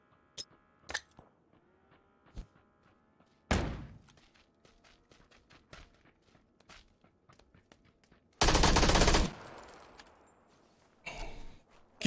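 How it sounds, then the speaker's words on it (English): An MP5 submachine gun fires in a video game: a few scattered single shots, then short rapid bursts, the longest lasting under a second, loud against a quiet background. "How do you like the MP5? Does that feel good shooting you like that?"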